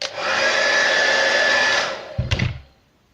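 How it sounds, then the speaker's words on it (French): A hair dryer blows with a steady, loud whooshing whine for about two seconds while shrinking a vape battery wrap, then clicks off and winds down. "ça va faire un tout petit peu de bruit avec le sèche-cheveux"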